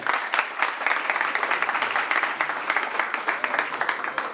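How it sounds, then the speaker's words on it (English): An audience at a talk applauds the arrival of Rabbi Uri Zohar, a sustained, even burst of many hands clapping together at moderate volume. "Please give a round of applause for Rabbi Uri Zohar."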